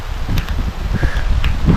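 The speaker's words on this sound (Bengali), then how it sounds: "প্রচুর বাতাস আর বৃষ্টি পড়তেছে আর পাহাড়ে মেঘ কিছু দেখা যাচ্ছে না" Strong wind in the hills during rain buffets nearby, a loud broad rushing with low rumbling gusts and brief rustles over about two seconds.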